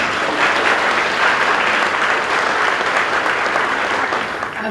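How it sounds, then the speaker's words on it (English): Sustained audience applause at a school presentation day ceremony, dense and steady clapping from a large crowd filling the room, loud and continuous before fading slightly at the end. "Give her a round of applause as she comes."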